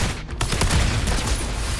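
Rapid gunfire in the Wuthering Waves video game, a dense, loud fusillade of overlapping shots and bursts filling the whole moment, with no speech.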